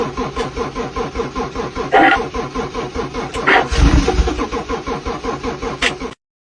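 A car engine cranks in a steady rhythmic churn, catches with a few brief surges, then keeps cranking before cutting off; loud and close with no talk.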